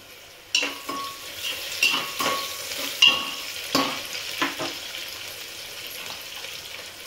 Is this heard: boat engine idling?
no